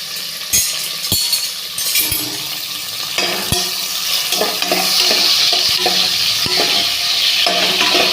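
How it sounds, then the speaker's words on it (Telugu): Sliced onions frying in hot oil with cinnamon stick and cloves for tempering, a steady close sizzle with repeated sharp clinks and scrapes of a spoon stirring against the pan. "ఉల్లిపాయలు కూడా వేసాను, బాగా ఫ్రై అవ్వాలి."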